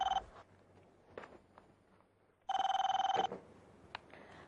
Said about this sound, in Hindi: जरा फोन से अटेंड करो